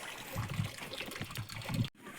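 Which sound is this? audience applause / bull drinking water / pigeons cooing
bull drinking water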